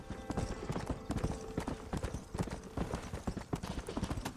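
Horse hooves galloping in the Red Dead Redemption video game, a rapid drumming of clip-clop strikes close up and fairly loud, with no voice heard over them.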